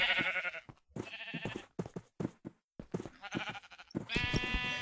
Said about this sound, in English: Fuck off, sheep.